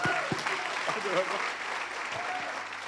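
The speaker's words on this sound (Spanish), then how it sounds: "Fuerte ese aplauso" A church congregation breaks into loud, sustained applause, a close, dense patter of many hands with scattered voices and cheers mixed in.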